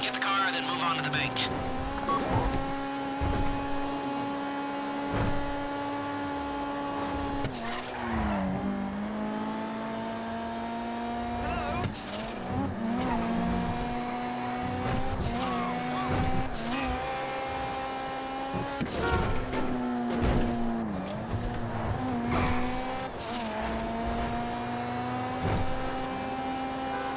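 A car is driven in the GTA Online Fleeca Job heist, its engine droning and revving up and down through repeated gear climbs, with occasional tire squeals under steady game dialogue voices throughout.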